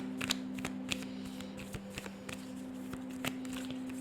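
Tarot cards are shuffled by hand, a quiet irregular run of soft riffling slaps and flicks, close and faint over a low steady hum, with no speech.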